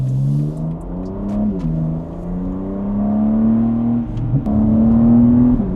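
A BMW G80 M3 cruises along a road, its engine note rising and settling in smooth revving sweeps with brief shifts between, heard from inside the car without speech.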